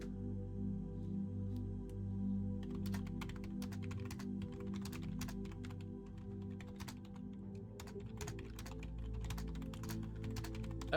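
Computer keyboard typing: a steady patter of light, quick key clicks with small pauses, close but quiet over a low constant background hum, no voices.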